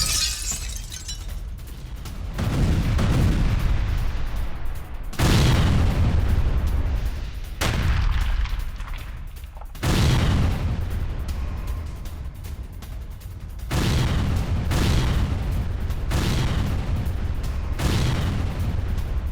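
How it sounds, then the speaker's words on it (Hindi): Repeated heavy blasts from Russian bombardment of a Ukrainian position in Zaporizhzhia, war news footage: about seven loud booming explosions at irregular intervals, each a sharp crack followed by a long rumbling decay, with no voices. "ज़ैपोरिज़िया में रूस की जबरदस्त बमबारी, हमले में यूक्रेनी ठिकाने को तबाह किया गया।"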